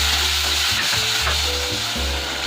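A cup of yogurt is stirred into a hot pan for chicken macaroni, and the mixture sizzles continuously while a spoon scrapes in steady back-and-forth strokes.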